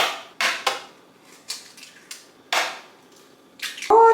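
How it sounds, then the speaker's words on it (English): Eight eggs cracked one after another into a blender jar, a series of sharp close taps and shell cracks with brief gaps between them and a faint liquid plop at the end. "So 8 eggs going in."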